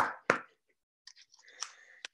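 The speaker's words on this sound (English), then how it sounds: "This is a package of freeze-dried macaroni." A solid freeze-dried macaroni block rattles in its package, with a sharp crinkly shake, a pause, then lighter scattered rustles, close and quiet.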